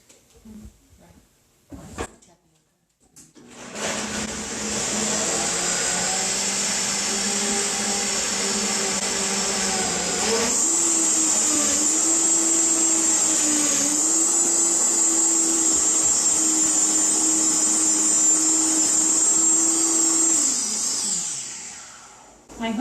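A Vitamix blender whirs through a vegan cheese mixture with onion, a loud steady motor whine that runs for nearly twenty seconds, shifts pitch once as the load changes, then spins down, with a few clunks beforehand.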